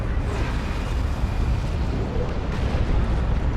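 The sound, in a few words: rocket strike explosions in Dawn of War 2 video game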